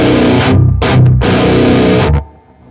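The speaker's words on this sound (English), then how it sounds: "here's the basic sound of the guitar in channel 2" A loud, sustained distorted electric guitar crunch through channel 2 of a MESA/Boogie JP-2C amp, ringing in bursts, with a brief gap and a final chord cut off into near silence.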